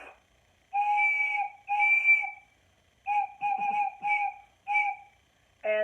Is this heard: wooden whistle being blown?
yes